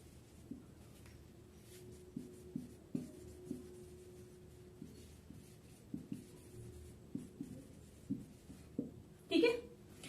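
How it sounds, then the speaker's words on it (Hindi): Chalk or marker tapping and scraping on a board while sentences are written, a steady series of close, crisp strokes and taps with brief scratchy bursts toward the end, heard alone. "तो हम यहाँ पे दो सेंटेंस लिख रहे हैं"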